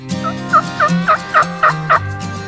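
A wild turkey gobbles in a rapid run of about six bursts, loud and close, with no other sounds around it.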